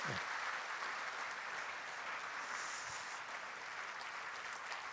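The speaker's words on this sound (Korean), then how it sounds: "우리 한번 인사하고 들어갈 때 박수해 주세요." Applause from a church congregation during a Sunday worship service, steady and moderately loud, filling a large room for the whole span with no talking over it.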